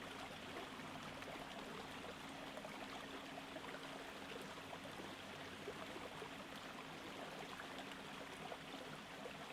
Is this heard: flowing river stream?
yes